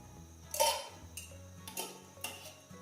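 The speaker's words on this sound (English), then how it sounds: "Pop the lid on." A lid set onto a jar of chocolate vodka made with Mars bars, a few light clinks and taps of glass and metal, close and quiet against near silence.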